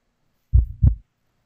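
A heartbeat sound effect gives a single close, deep double thump, lub then dub, in otherwise complete silence.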